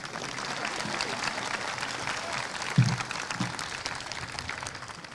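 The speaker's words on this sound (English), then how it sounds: "You can clap, thank you." Audience applause at a 2025 graduation ceremony: a sustained wash of clapping from a large crowd, with a few louder nearby claps partway through and faint voices mixed in.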